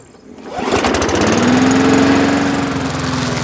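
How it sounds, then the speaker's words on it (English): A lawn mower starts up and settles into a loud, steady engine drone with a sustained hum while cutting grass, close by and continuous, no talking. "so it's a good day to cut the grass."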